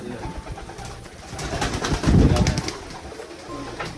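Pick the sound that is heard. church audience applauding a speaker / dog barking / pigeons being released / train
pigeons being released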